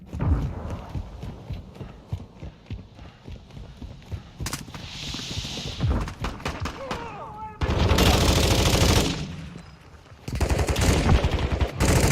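Rapid automatic gunfire and single shots from a Call of Duty multiplayer match, loud and dense with bursts and sustained fusillades, mixed with game effects and brief voice callouts.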